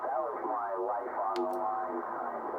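A 40-metre amateur radio signal received on a vertical antenna comes through as a narrow-band, voice-like transmission with wavering tones and a brief burst of static, heard alone.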